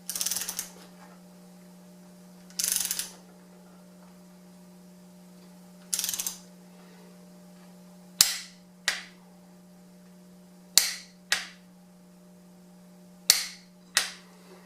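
A ratchet tightens a nut on an ARP head stud of a Toyota 3SGTE/5SGTE engine, giving about ten short, crisp bursts of clicking, with pauses of roughly one to two seconds between strokes, close and alone.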